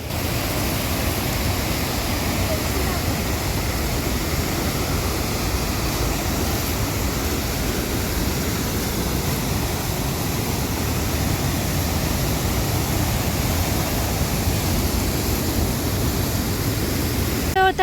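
A glacier-fed stream at a trail water crossing on the Valley of Flowers trek roars with a loud, constant, close rush of water that never lets up.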